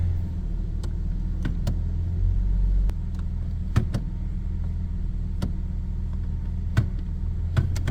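A 2011 Nissan Frontier engine idles to warm up, a low, steady rumble heard close, with occasional clicks and knocks on top.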